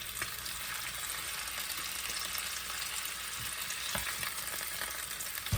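Vegetables searing and sautéing in hot oil, cooked for a sausage and peppers dinner, make a dense, even sizzle that runs the whole time. A few scrapes of a utensil sound under it, with no talk.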